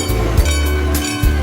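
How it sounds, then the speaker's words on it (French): A train rolls along its rails with a loud, close rumble, broken by a few rhythmic clickety-clack beats as the wheels cross rail joints. "Compter les trains en mouvement."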